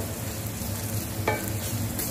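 Sweet and sour fish cooking in a pan gives a steady soft sizzle with faint stirring scrapes and one brief clink, fairly quiet and close, with no talking.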